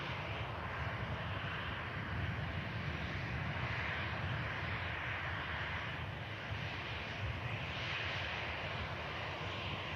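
An Airbus A350 airliner arriving at Manchester Airport, producing a continuous, fairly faint engine rumble and hiss that stays even for the whole stretch, with no talk over it.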